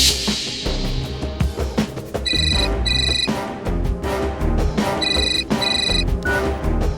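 A telephone ringing with bursts of bright electronic trills in two pairs, sounding over a tense dramatic music bed in a courtroom drama scene.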